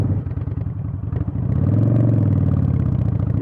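Harley-Davidson Iron 883 motorcycle lugging at low revs in second gear, a steady loud low-pitched engine drone that swells and holds after the first second, with rattly mechanical clatter throughout.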